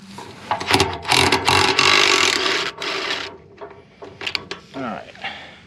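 Impact wrench working bolts loose on a New Holland NH 256 hay rake gearbox, several loud rattling hammering bursts close by, with a brief spoken remark near the end.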